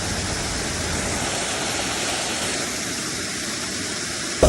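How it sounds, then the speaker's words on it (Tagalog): Small mountain waterfall in the Nueva Vizcaya highlands, a steady full-band rush of falling water heard close and loud throughout, with a brief bump of handling noise at the very end. "meron pa nga kami nakita ditong mini falls oh"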